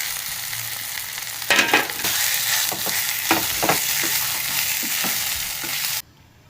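A potato masala of mashed boiled potatoes and 65 masala, cooked as a chili bajji filling, sizzles in a pan. It gives a constant close hiss broken by scraping stirs, then stops abruptly near the end with no speech.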